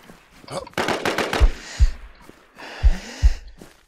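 Gunfire in the game Infestation: several close, heavy shots with deep thumping low ends, grouped in pairs, over a busy background of game noise.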